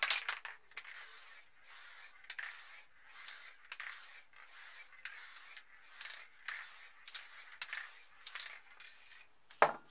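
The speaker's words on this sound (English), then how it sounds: "give that a good shake first. And we're just going to mist it over the top." A can of white spray paint mists over a piece of spray paint art in a run of about ten short, close hissing bursts with brief gaps between them. No one speaks.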